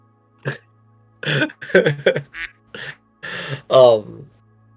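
Duck quacks come in a string of short, nasal, throaty bursts, close and fairly loud, sounding like a person imitating the calls with the voice.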